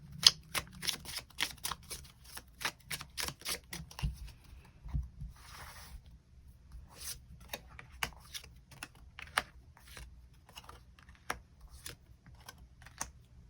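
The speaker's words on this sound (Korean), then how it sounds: "추가 카드로 이 사람을 언제쯤 또 어떻게 만나게 될지 추가 카드 뽑아보도록 하겠습니다" Tarot cards are shuffled and drawn, producing a quick run of crisp papery clicks and snaps up close, then slowing into scattered single taps with quiet gaps between.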